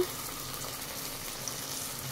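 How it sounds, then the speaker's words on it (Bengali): Chopped onions fry in a pan while being stirred for a Bengali yogurt chicken curry, giving a soft, steady sizzle with faint scraping throughout, fairly quiet and with no voices. "এই যে পেঁয়াজ কুচি দিয়ে এবারে নাড়ছি, ভাজা ভাজা হোক"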